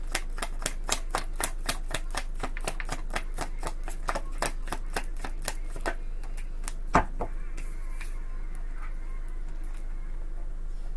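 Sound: shuffling tarot cards

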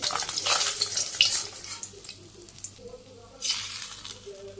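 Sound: small fish sizzling as it is added to curry

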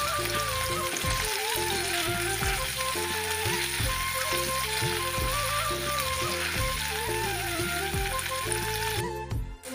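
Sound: onion, ginger and red and green chillies frying in oil in a kadai

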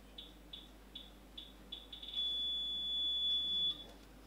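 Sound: proximity alarm of exhibition alarm wall

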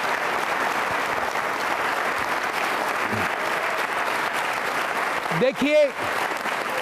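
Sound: audience applause for NCC cadets

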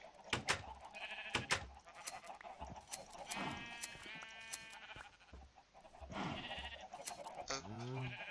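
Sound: sheep bleating in a video game

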